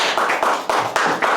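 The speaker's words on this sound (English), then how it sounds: "Give him a round of applause as he comes on up to the stage" An audience at an open mic night claps in quick, rhythmic bursts, a brief patch of close applause with no voices over it.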